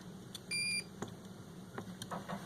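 A single short electronic beep sounds once from a racing drone's electronics during assembly, faint and high-pitched, followed by quiet clicks and soft handling noise.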